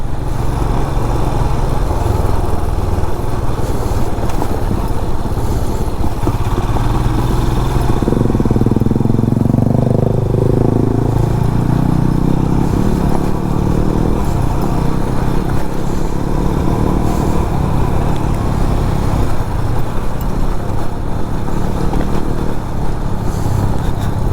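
A Royal Enfield Himalayan motorcycle engine drones loudly and continuously, revving up and down as the bike rides off-road over rough, potholed ground, with no voices.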